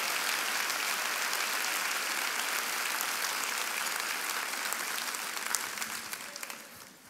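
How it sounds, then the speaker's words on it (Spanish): A church congregation breaks into loud, sustained applause during a sermon, a dense, steady wash of clapping that holds for several seconds and trails off slightly at the end. "Le damos un aplauso fuerte al Señor"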